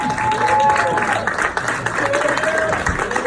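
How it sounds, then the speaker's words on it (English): An audience claps and applauds in a steady, dense burst at an evening presentation, with a voice speaking over the clapping. "Everybody, let's clap it up for Sam Barbecue!"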